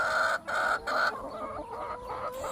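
A frizzle hen regrowing feathers after molting clucks close by in a backyard flock, several loud, rhythmic clucks in quick succession with short pauses between them.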